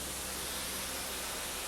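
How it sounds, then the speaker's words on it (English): Steady broadband hiss of steam escaping from an open cylinder cock on the Taw Valley steam locomotive, continuous and fairly loud with no pauses and no talk. "That noise you can hear is the cylinder cock still open."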